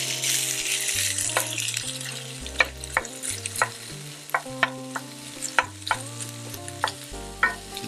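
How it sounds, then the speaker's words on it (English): Fatty beef renders and browns in a pan over low heat with no added oil, a steady sizzle under repeated sharp scrapes and taps of stirring at a loose, uneven rhythm, close by and without voices. "And now it's just a matter of rendering this down in the pan."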